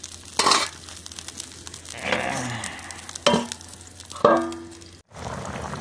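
A pot of Assamese local chicken curry with black pepper and a little water bubbles and sizzles steadily, close by, broken by a few sharp clanks of a lid or utensil against the pot.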